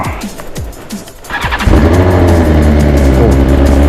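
A car that has sat parked for a long time is driven off, first a few soft engine pulses and knocks, then a louder, sustained mid-range engine drone as it pulls away and accelerates nearby.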